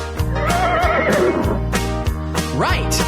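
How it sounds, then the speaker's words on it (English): A farm horse neighs in a long, loud, quavering whinny followed by a shorter rising whinny, set against a steady musical backing in a children's animal song. "the horses go as they gallop around the farm"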